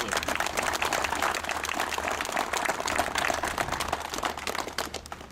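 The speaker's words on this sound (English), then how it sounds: "a round of applause for all our men and women in blue" Audience applauding police officers at a promotion ceremony in Baltimore: dense, steady clapping from a roomful of people, fairly even in strength throughout with no voices over it.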